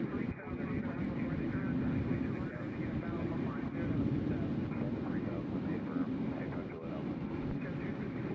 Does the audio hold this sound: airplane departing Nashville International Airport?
yes